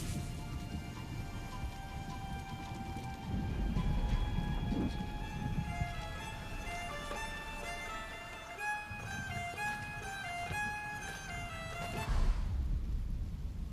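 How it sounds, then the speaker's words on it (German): Steady rain and storm ambience in the Diablo IV video game, a continuous wash of rainfall under a layer of sustained musical tones, with no clear thunder crack standing out. "Also lasst uns für einen Moment den Sturm genießen. Ah, die Musik der Natur."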